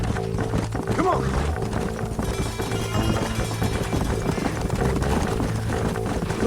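Horses gallop in Red Dead Redemption, their hooves beating a steady, close clip-clop over a continuous bed of game music and ambience.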